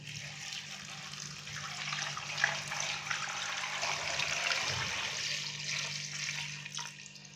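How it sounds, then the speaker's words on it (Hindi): Water poured steadily into a pot holding goat head and trotters, a continuous splashing rush with a low steady hum underneath and no talking. "तो अभी मैंने इसके अंदर तकरीबन 2 लीटर के करीब पानी डाला है"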